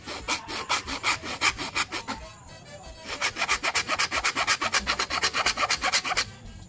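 A round file rasps back and forth against a quena flute to widen a finger hole, a quick steady series of close scraping strokes with a brief pause midway, no voices.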